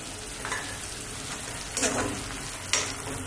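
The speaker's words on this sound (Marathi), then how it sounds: "हे पाणी ह्याच्यामध्ये ओतून घेऊ." Water poured into a hot pan of soup brings a constant, close hiss of sizzling, broken by a few brief louder bursts as the contents are stirred.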